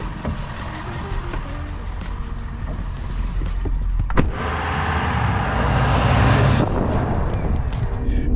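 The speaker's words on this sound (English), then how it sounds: "So let's go for a drive." A 2022 Ford Super Duty Platinum with a 6.7 liter turbo diesel on the move, a steady low engine drone and road rumble that swells slightly midway, heard from inside the cab.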